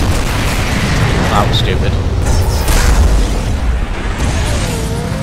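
Car blowing up in the racing game Burnout Revenge, a heavy booming blast with rumbling low end and crashing debris running through the whole stretch, loud and dense, with someone talking over it.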